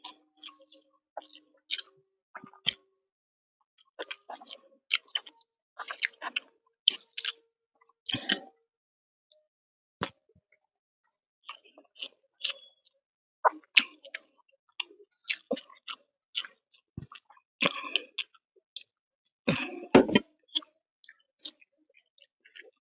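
Someone eating hot rice mixed with ghee by hand, giving soft, wet squishing and chewing sounds with small clicks in irregular bursts, close and fairly quiet, with no talking.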